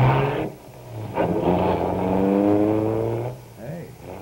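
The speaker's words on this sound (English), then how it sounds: "that kid drives one of those hopped-up cars" A hopped-up 1950s car engine revs and drives off nearby, a steady droning rumble that swells and then fades, with people talking over it.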